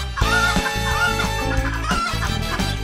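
Chickens cluck in a farm setting, a dense, steady run of clucks with possible rooster crowing mixed in, loud and continuous with music-like tonal layers underneath.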